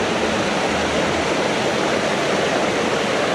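River water rushing at a trail river crossing in Angeles National Forest, a loud, steady, broadband roar that runs unbroken throughout with no voices.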